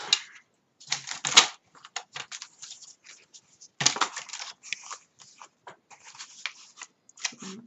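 Scissors or a paper cutter trimming about two centimetres of excess decorative paper from a handmade scrapbook album cover, heard as close, dry crunching snips in short bursts with quiet gaps.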